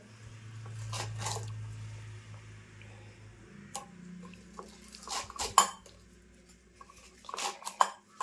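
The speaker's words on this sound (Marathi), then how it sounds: "अशी मी मोठी मोठीच कापून घेतली" Knife roughly chopping fresh fenugreek leaves into large pieces on a board at home, soft irregular cuts and taps scattered through a low background hum, close and fairly quiet.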